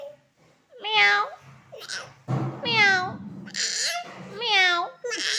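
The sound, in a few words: child imitating a cat's meow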